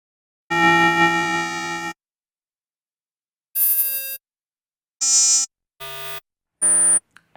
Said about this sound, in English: an electromagnetic sound effect